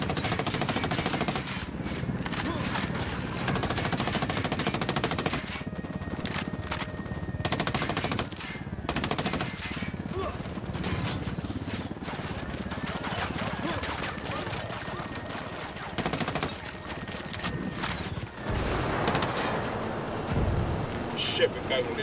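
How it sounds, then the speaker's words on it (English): Gunfire and bursts of machine gun fire in the tactical shooter Ghost Recon: Wildlands, set in cartel territory, crackle repeatedly across the whole stretch in loud rapid volleys, with voices talking over the shooting. "Shots fired."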